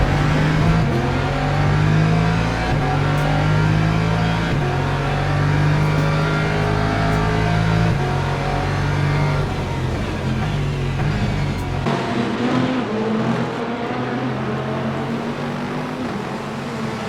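Hypercars roar past in the racing game Le Mans Ultimate at Imola, a loud dense engine drone with shifting rumbling tones as several cars rev and overtake close by, with no talking.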